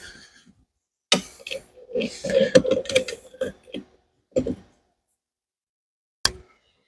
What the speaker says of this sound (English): Let's get a crescent and put a little snug on that.